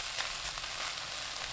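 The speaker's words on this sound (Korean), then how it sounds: "지글지글 소리 나기 시작하면 그때부터 1분 더 볶으시면 돼요." Gondre namul tossed with minced garlic, anchovy sauce, soy sauce and perilla oil sizzling as it stir-fries in a pot over high heat: steady close hiss with faint crackles and no talking.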